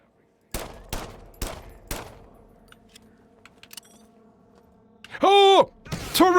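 A turret in System Shock fires four sharp, evenly spaced shots near the start, followed by quieter clatter and then a rising, warbling electronic burst, as a player reacts with a voice.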